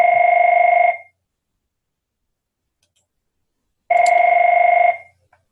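A phone rings twice, each burst of electronic trilling lasting about a second, with near silence of roughly three seconds between the two rings.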